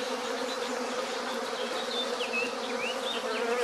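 Honey bees on hive frames make a dense, steady buzz, with individual bees whining past up close during hiving.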